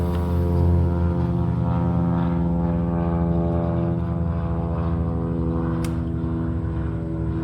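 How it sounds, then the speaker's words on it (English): A propeller airplane drones overhead, a loud steady hum that holds through the whole stretch without fading, with no voices. "another plane"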